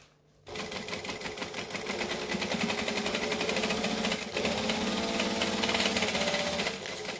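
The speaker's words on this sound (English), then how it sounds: "I just keep pushing the middle part of the gusset out of the way so that I can stitch with ease" A sewing machine runs steadily, stitching the gusset of a backpack in a rapid, continuous mechanical rattle that starts after a brief pause and carries on close and loud to the end.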